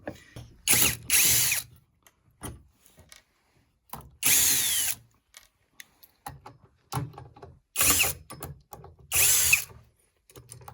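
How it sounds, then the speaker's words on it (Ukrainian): A power drill whirs in several short bursts, driving four self-tapping screws into a homemade circular saw blade sharpening jig, with clicks and handling clatter between the runs; close by, no talk. "на 4 саморізи закрутили"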